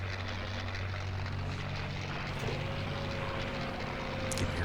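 Steady droning hum of a propeller fighter plane's engine with throttle cut as it lands in the Combat Wings game, a continuous low buzz with a faint rising tone partway through.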